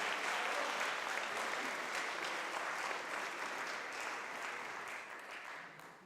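Applause from the audience at an anniversary celebration of a tourist society in Nova Gorica, following an accordion performance: steady, dense clapping from many hands that holds for several seconds and then tapers slightly at the end.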